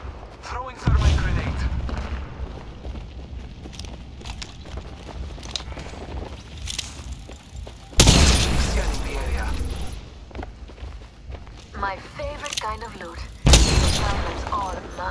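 Loud grenade explosions boom three times with heavy low impacts, spaced several seconds apart amid Apex Legends gunfire and game noise, while players talk throughout.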